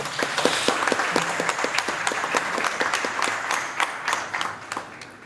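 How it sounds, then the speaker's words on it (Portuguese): An audience at a podcast's one-year anniversary celebration breaks into a lively round of applause, dense and steady with crisp individual claps, easing slightly toward the end. "Salva de palmas aí, gente."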